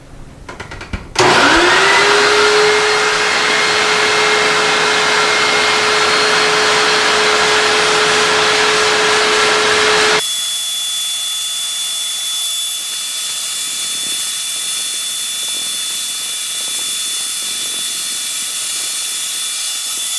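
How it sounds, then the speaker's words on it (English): A loud vacuum cleaner roars steadily during drywall sanding, with a whining tone that drops sharply midway to a lower, thinner hum, continuing without pause. "It's going to be a little noisy because I'm going to have the vacuum on"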